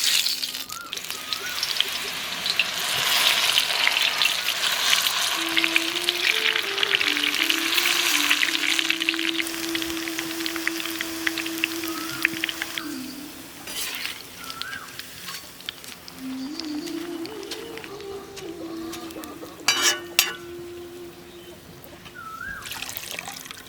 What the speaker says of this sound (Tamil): நம்ம கட்டியா கலக்கி வச்சிருந்த மாவை இடியாப்ப அச்சில போட்டு சின்ன சின்ன முறுக்கா சுட்டுக்கலாம்